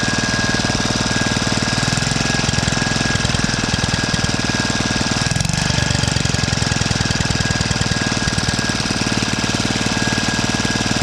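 A vintage Clinton model 350 small gasoline engine chugs steadily and loudly with a rapid, knocking rhythm, running continuously without pause throughout.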